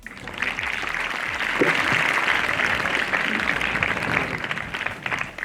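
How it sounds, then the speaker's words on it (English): An audience at a school investiture ceremony applauds the school band with steady, moderately loud clapping that swells and then holds throughout. "A big round of applause for them as well."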